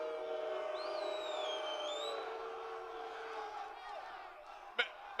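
A press-conference crowd at a UFC 313 pre-fight event boos and jeers loudly and continuously at a fighter, a sustained mass of voices with a few whistles over it and a sharp bump near the end.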